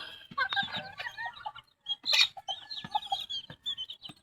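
Chickens and chicks close by, repeated soft clucks and thin high peeping chirps in an uneven busy stream, with brief pauses between bursts.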